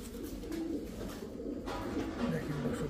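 Old-breed pigeons coo in low, repeated rolling calls, close and steady, mixed with faint background voices.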